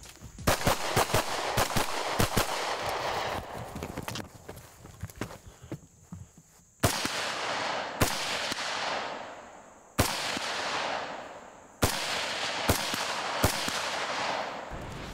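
Rifle gunshots fired at stage targets on a shooting course, sharp loud cracks in quick bursts early on, then single spaced shots each followed by a long echoing decay.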